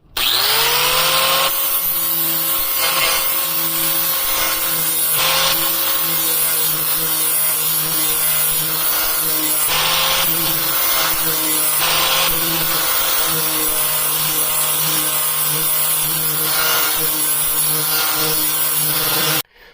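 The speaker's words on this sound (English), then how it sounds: "let's see if we can get this one hit with the flappy wheel" A flap wheel grinds steadily on a custom console part for a 1964 Chevelle, a loud continuous whine with brief dips in pitch and pressure as the wheel bites, running nonstop for nearly twenty seconds.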